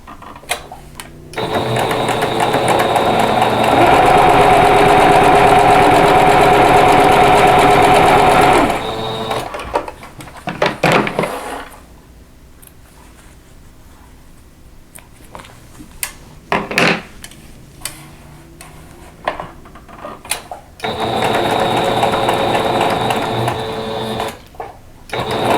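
A sewing machine stitches a tulip quilt block along a drawn line, running as a loud, fast, steady whir for several seconds, then stopping for quiet handling clicks and rustles before starting again.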